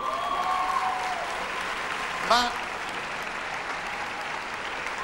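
An audience applauds at a Miss Italia beauty pageant selection, steady clapping filling the room while someone speaks over it and a short vocal exclamation briefly pokes through.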